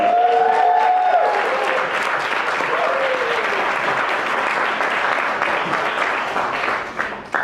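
Wedding guests cheering and applauding in a dense, sustained wave of clapping and whoops that fills the room loudly from start to finish, with a few voices calling out over it.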